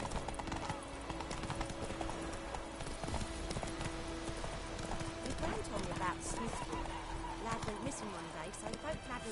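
A horse galloping in the video game The Witcher 3, rapid clip-clop hoofbeats running continuously under game music and character voices.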